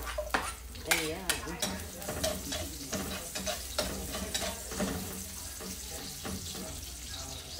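Onion sizzling in a pan while being stirred for squid adobo, a close sputtering fry broken by repeated scraping strokes, with faint voice-like sounds in the background.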